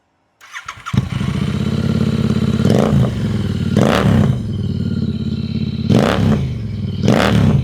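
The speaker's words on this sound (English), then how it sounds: "Can we hear the sound note without the DB killers?" A Royal Enfield Interceptor 650 twin fitted with a Way2Speed stainless steel exhaust, dB killers removed, cranks and fires into a loud, deep, throbbing idle, with several sharp blips of the throttle spaced through the clip.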